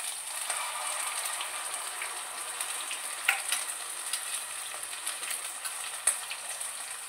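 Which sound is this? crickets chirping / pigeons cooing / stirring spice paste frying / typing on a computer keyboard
stirring spice paste frying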